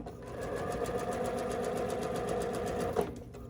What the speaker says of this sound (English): So I'm only sewing through one layer.